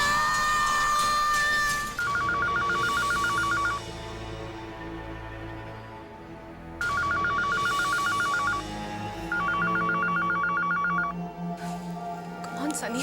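A telephone rings repeatedly and goes unanswered, bursts of electronic trilling tones over a tense musical score, two long ringing spells separated by quieter music.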